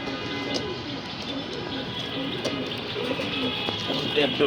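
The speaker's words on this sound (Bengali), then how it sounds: "এখানের বাচ্চা সরাইছি পর পুরা ডাকাডাকি শুরু করে দিছে" Racing pigeons in a loft keep up steady cooing after their chicks have been taken from the nest, the calls soft and continuous at moderate distance, with a person speaking now and then over them.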